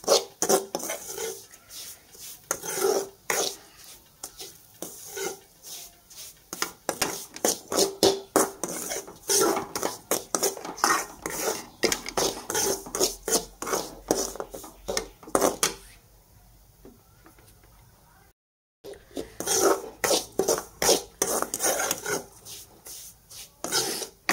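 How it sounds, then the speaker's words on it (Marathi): Semolina (rava) roasting in a pan on a low flame, stirred with a spoon in a steady run of close scraping and rasping strokes, broken by a short pause before the stirring resumes. "कमी फ्लेमवरती छान आपल्याला रवा भाजून घ्यायचा आहे."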